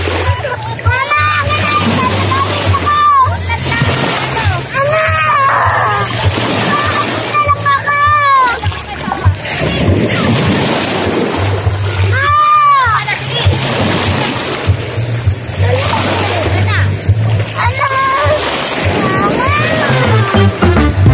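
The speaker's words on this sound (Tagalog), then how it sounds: "Ang sarap maligo sa dagat" Water splashing and sloshing as people swim in the sea at a beach, with repeated splashes close by while children and adults talk and call out throughout.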